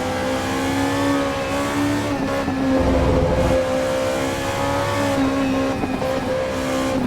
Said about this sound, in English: Definitely hitting the rev limiter a lot.